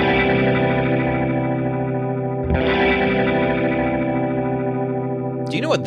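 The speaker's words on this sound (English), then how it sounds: "That is the sound of an electric guitar." An electric guitar run through effects and distortion drones in a thick, sustained wash with chorus-like shimmer and echo, re-struck once midway, then a brief warbling flourish at the end.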